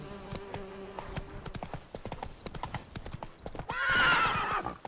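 Roach the horse in The Witcher 3 clip-clops with steady rhythmic hoofbeats, then lets out a loud rising neigh near the end, close and clear.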